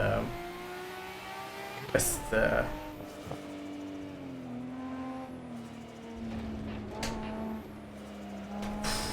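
A race car's engine in the Assetto Corsa driving game drones and climbs in pitch through gear changes, with a few sharp bursts of revving, while someone talks over it.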